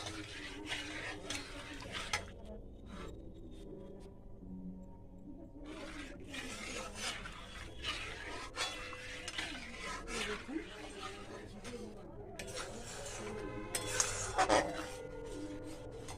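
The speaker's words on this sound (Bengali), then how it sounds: "দুধটা ফুটছে, আর বারবার করে নেড়ে রাখছি" Milk boiling in a pan for carrot halwa is stirred with a spoon, giving faint, irregular scraping and clinking against the metal over a low background hum.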